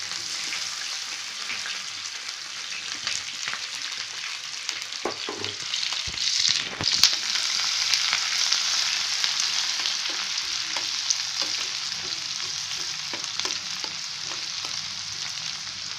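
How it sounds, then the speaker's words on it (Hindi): Chopped onions frying in hot mustard oil in a pan: a steady, close sizzle and crackle throughout, with occasional clinks and stirring scrapes of a utensil against the pan, no voices. "इसमें पहले हम ओनियन को, प्याज को डाल देते हैं।"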